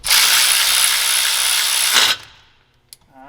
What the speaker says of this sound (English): we are about to tighten down these 3 bolts for the main bracket here